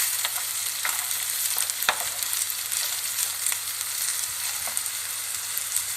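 Sucuk sausage frying in a pan, a steady dense sizzle with soft scraping stir strokes and occasional clicks of the utensil, close and continuous with no talking.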